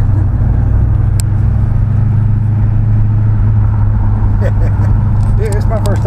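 A 1955 Chevy rumbles along the road with a deep, steady low engine drone heard from inside the car, loud throughout, with brief higher noises near the end.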